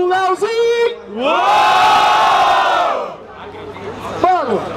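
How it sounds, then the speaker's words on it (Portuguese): Spectators at a freestyle rap battle let out a loud, sustained collective roar and shout, framed by an announcer's amplified voice at the start and end. "Barulho para as rimas do Leozinho!"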